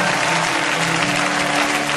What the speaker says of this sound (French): J'attends que tu acclames, j'attends.